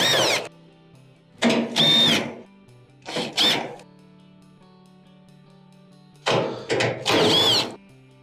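Power drill backing screws out of a Maytag dryer blower housing: four short whirring bursts with rising pitch, separated by quiet pauses, close and fairly loud.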